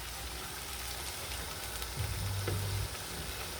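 Onions frying in a pan after a splash of water is added, a steady soft sizzle throughout with a low hum rising briefly partway through; no voices.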